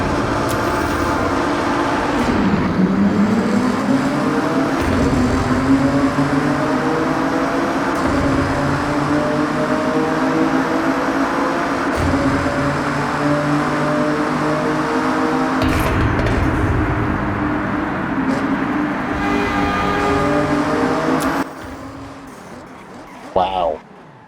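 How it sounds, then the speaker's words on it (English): Engine of a 2024 Nissan GT-R Nismo revving hard in the Forza Horizon racing game, a sustained loud roar with rising and falling pitch sweeps over the full clip, cutting off near the end, with a voice talking over it. "Let's do a rev bomb inside."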